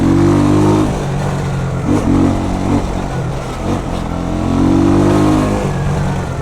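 A Jamco motorcycle fitted with an Eagle engine accelerates on the road, its loud, close engine climbing and dropping in pitch through repeated revs with steady rumble and wind underneath.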